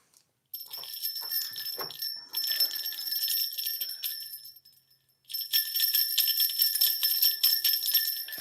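Small door security bells, sold in two-packs, ringing in bursts of bright sustained jingling and tinkling with a brief pause between, fairly close and without talk.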